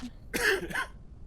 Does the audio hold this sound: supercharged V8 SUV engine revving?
no